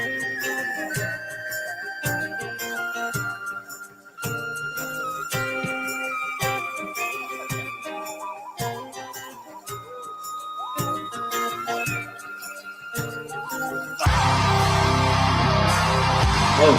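Folk metal music plays with pan flute and penny whistle melodies over plucked and struck accompaniment, phrases separated by brief pauses, then a dense, loud burst of full band sound near the end.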